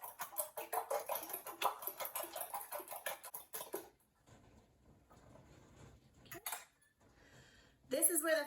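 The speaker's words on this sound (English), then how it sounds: "grab a fork or a whisk and scramble them up" Cracked eggs get scrambled in a jar with a fork or whisk: rapid close clinking and tapping for about four seconds, then quieter rustling and a brief clatter near the end.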